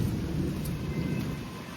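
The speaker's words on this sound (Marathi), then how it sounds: "फुल विजा चमकू राहिले विजा चमकू राहिले पाऊस यायला लागला" Thunderstorm with rain falling on a rural Maharashtra evening, a steady low rumble of thunder and dense rain wash filling the whole stretch, fairly loud and continuous with no voices.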